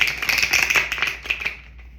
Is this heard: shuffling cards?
yes